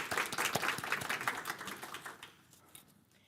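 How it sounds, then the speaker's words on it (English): An audience at a talk on digital skills for migrant women claps for a speaker, a dense patter of applause that fades out over a few seconds. "Let's give another round of applause to Aisha."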